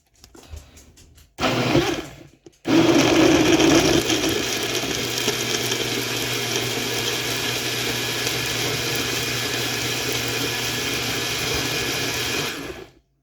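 A blender whirs through a mixed berry smoothie of berries, cherries, blueberries, spinach, juice, yogurt and banana, starting with two short pulses and then running loud and steady for about ten seconds before stopping.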